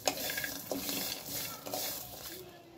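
Sesame seeds go into a pan for a Marathi garlic chutney and get stirred, a steady dry rustling and scraping with a few sharper knocks from the spoon, close and continuous, no talking.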